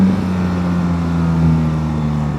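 Adventure motorcycle engine accelerating, a loud close steady drone with a rising tonal whine as revs climb, continuous and alone with no voices.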